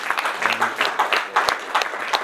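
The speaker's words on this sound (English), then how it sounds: "And can we just give a round of applause to the various panelists?" A seated panel-session audience claps for the panelists in a brief, moderate round of applause, the claps close and irregular.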